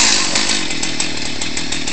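A chainsaw runs loudly and up close at steady high revs, with a rapid pulsing buzz and no talk.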